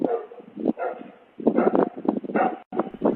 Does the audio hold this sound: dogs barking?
yes